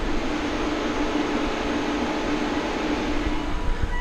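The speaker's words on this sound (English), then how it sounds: "Climate control is turned off. You can still hear the fan." Battery cooling fan of a Mitsubishi Outlander PHEV running with the climate control off: a steady, even whir with a faint low hum beneath, constant in level throughout.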